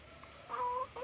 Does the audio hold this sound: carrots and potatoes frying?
no